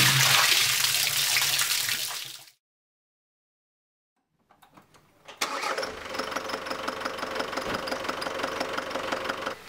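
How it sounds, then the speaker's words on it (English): A Ford Transit engine during a cooling system flush: a loud wash of running water stops, then after a quiet gap the engine cranks and settles into a steady, close running drone. "The engine's been running for a few minutes."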